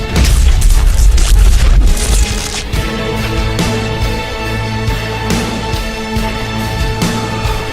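Airstrike explosion in a Mario Bros animation: a loud booming blast with deep rumble that settles into a sustained crashing roar and debris-like clatter filling the whole stretch.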